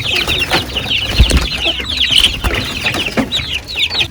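Egg-laying hens cluck steadily inside a farm coop, close and busy. Several birds chatter over one another in short overlapping calls, with a few louder squawks.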